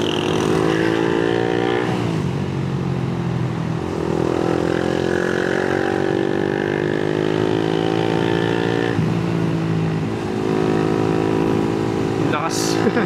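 A Honda Winner X motorcycle with a remapped stock ECU runs close by, its engine holding a loud, steady drone with a few rises and dips in pitch from revving, continuous through the whole stretch.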